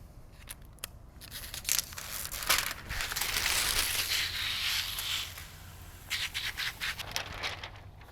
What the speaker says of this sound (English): peel the release liner